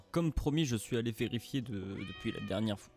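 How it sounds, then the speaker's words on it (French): A cat in The Witcher 1 game, at Vizima castle, gives a brief high meow that rises and falls, partly buried under someone talking over it. "Ah, c'était le chat."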